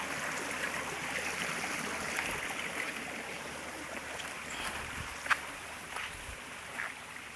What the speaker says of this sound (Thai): บรรยากาศลำธารครับพี่น้องสวยงาม